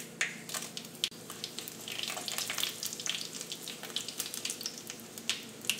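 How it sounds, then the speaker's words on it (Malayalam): Dry red chillies frying in hot coconut oil for a spicy potato curry: a close crackling sizzle with frequent sharp pops and spits, fairly quiet, with no voices. "ഇപ്പോൾ ഉണക്കുമുളകും നന്നായിട്ട് മുരിഞ്ഞിട്ടുണ്ട്."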